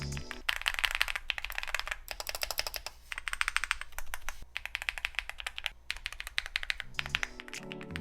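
Fast, steady typing on a mechanical keyboard with linear switches, a dense run of crisp clacks close to the mic with brief pauses between bursts, and no voices.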